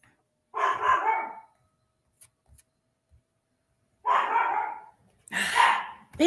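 A dog barks indoors in three separate outbursts, each a quick cluster of sharp, loud barks separated by quiet gaps, with faint small knocks in between.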